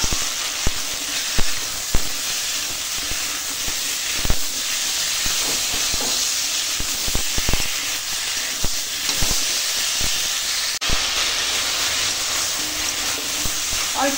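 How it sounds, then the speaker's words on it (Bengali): Vegetables frying in a pan with ginger-garlic paste, salt, chilli powder and turmeric, a steady close sizzle and hiss with scattered scraping clicks from stirring. "এবার ভালো করে আনাজের সঙ্গে মশলাটা কষিয়ে নেব।"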